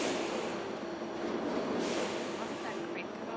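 Train passing with a steady, dense rumble and rushing rail noise, continuous and fairly loud throughout, with faint squealing near the end.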